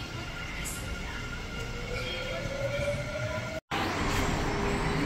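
A train at a railway station in South Korea rumbles steadily nearby, with a rising metallic whine of wheels or motor and a brief cut near the end, and no talk.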